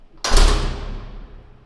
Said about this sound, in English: The sound effect from the door closing sounds very much different in this part of the house than outside.